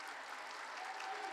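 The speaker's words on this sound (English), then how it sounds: "as the applause comes from the Norristown fans" Applause from Norristown fans fills a high school boys basketball semifinal gym, a steady, dense wash of clapping heard throughout with no break.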